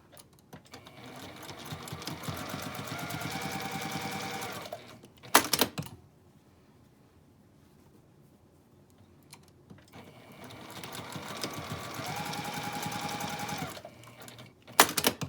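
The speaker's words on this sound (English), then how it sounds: "I start off with sewing down these hems" A sewing machine stitches down the hems of a cotton scrub cap made from a fat quarter, running in two long steady bursts with a short pause and a few clicks between them.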